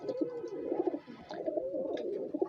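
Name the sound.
pigeons cooing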